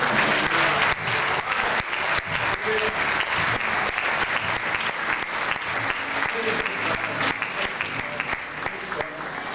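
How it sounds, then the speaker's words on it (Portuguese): A church congregation at a Sunday service claps loudly and continuously for nearly ten seconds, a dense wash of hands with scattered voices and cheers mixed in. "Vamos aplaudir o Senhor."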